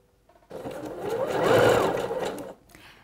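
Sewing machine stitching an elastic swimsuit strap: a steady mechanical whirr that starts abruptly, holds for about two seconds while rising slightly in loudness, then stops, heard close and alone.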